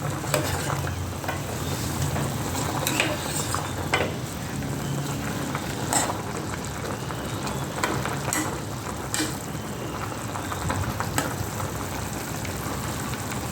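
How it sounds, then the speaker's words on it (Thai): A pot of clear Thai soup bubbles and simmers steadily at close range, a constant hissing, crackling boil with occasional soft clinks, no voices. "อันนี้เดือดแล้วค่ะทุกคน"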